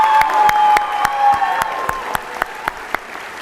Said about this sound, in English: Let's give her one last round of applause.